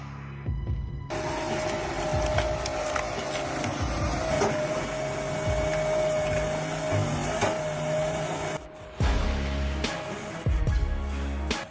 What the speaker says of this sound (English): the Patrizio 200 forestry mulcher clears undergrowth in a single pass